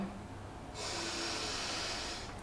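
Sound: deep breath taken during meditation

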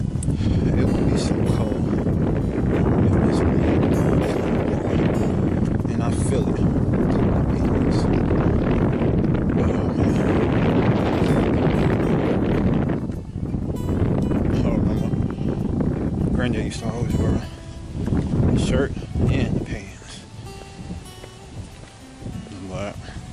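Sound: wind blowing outdoors during a walk

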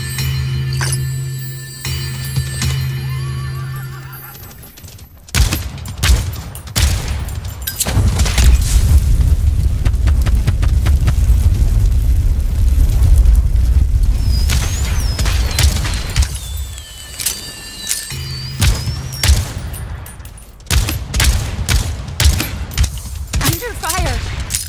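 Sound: gunfire in Realm Royale video game battle

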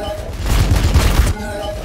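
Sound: gunfire, from video game Warhammer 40,000: Battlesector

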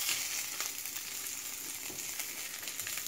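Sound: sesame crusted tuna searing in a pan

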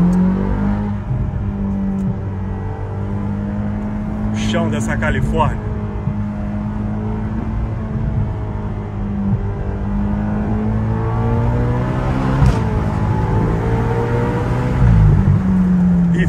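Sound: Ferrari engine revving while driving

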